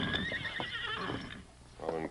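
Silver, a big horse in a Western radio drama, lets out a loud whinny at the start, with hoof noises and a voice around it, then a second shorter neigh near the end.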